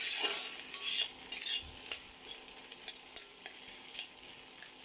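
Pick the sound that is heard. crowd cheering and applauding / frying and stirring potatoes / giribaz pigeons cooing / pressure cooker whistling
frying and stirring potatoes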